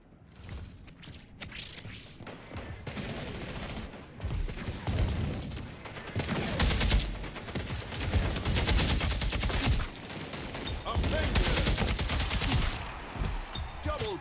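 Shotgun blasts and other weapon fire in the arena shooter Splitgate 2, sounding as a dense, continuous run of loud, overlapping shots and impacts with a voice speaking briefly over the combat.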